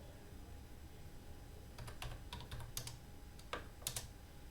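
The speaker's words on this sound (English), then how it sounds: "So we're going to type exit." Typing on a computer keyboard during a Cisco router setup, a brief run of close, crisp key clicks after a quiet start, ending with a couple of firmer taps.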